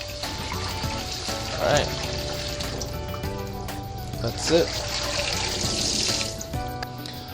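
Cold water runs steadily from a kitchen tap over cooked pasta in a sink, a continuous close splashing wash with a couple of louder surges, while a person talks over it.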